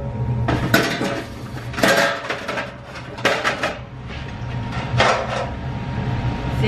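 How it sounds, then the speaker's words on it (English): Metal pans clatter and clank as a regular baking pan is set down inside another pan while making cheesecake in a home kitchen: several sharp, ringing knocks spread over a few seconds, close and fairly loud, with no talking. "So I'm just gonna use a regular pan and put it inside of here."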